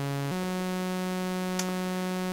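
After its trigger stops, a modular synth VCA keeps passing a steady buzzy tone at an even, moderate level, with a brief soft tick near the end.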